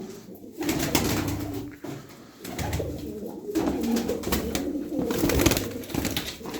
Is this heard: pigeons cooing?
yes